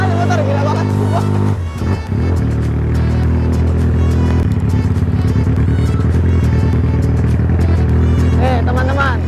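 A custom Yamaha Scorpio 450cc motorcycle engine revs hard up close, its loud, steady drone broken by a brief dip near the start, then rising and falling as the throttle is worked.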